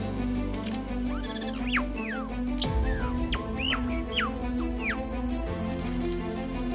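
Lyrebird mimicking the calls of other birds: a run of sharp, rising and falling whistled chirps, about a dozen in quick irregular succession, heard clearly over a steady low background hum.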